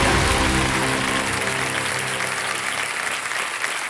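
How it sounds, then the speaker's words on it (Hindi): The studio audience of the Kaun Banega Crorepati quiz show bursts into loud, dense applause that carries steadily with sustained tones beneath it, then thins slightly toward the end. "जोरदार तालियां बज जाए अमित सिन्हा जी के लिए।"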